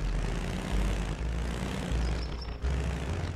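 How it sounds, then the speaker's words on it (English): A bulldozer engine in the video game Chained Together drones loudly and continuously, a heavy low rumble that holds steady throughout with slight swells and a brief dip near the end. "Bulldozer. Let me in that thing."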